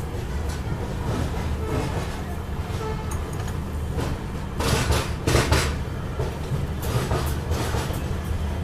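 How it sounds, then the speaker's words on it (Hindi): A train hauled by a WDG4 diesel locomotive pulls out of Lumding Junction, a continuous low rumble with rolling clatter and scattered metallic clanks and squeals, swelling midway as the cars move off. "फाइनली अभी अपनी ट्रेन निकल रही है लमडिंग जंक्शन से"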